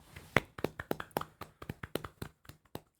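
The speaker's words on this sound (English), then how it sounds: "Let's take a moment to give Jade Cargill a round of applause" A short round of applause for wrestler Jade Cargill, made of crisp, separate hand claps in a steady, slightly quickening rhythm, close and fairly loud, with no voices over them.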